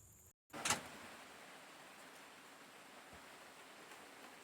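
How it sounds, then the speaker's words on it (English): Steady rain on a farm where a fence is being readied for cows: an even, moderate broadband hiss that starts after a brief dropout and a soft knock, continuing unchanged with no talking. "Well, got rained out."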